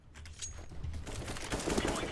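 Gunfire in Counter-Strike on the Mirage map, a burst of rapid shots that builds from sparse cracks into a denser, louder volley over about two seconds, close and continuous.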